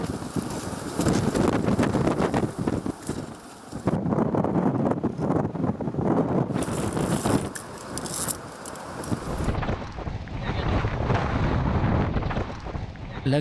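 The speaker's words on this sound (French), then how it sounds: "Le vent est dantesque" Strong wind gusting across a granite rock face in Corsica during an adventure raid, loud roaring buffeting that hits the microphone, surging and dropping in bursts with no pause.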